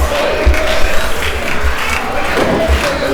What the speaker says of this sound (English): This crowd is so loud you probably can't even hear me.